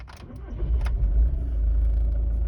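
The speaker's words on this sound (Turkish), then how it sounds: "Marşın da bir nasıl bastığına bakalım." A 2.0 TDI BKD PD diesel engine turns over with a starter cranking, then a low, rumbling motor runs steadily close by.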